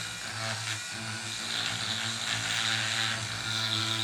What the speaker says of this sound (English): So we have a small Dremel like this.